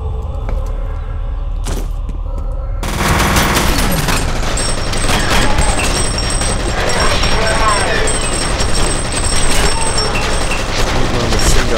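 Explosive blasts and heavy gunfire from a grenade fight in the first-person shooter F.E.A.R., loud and dense, running continuously for the whole stretch with a sharp onset after a quieter start.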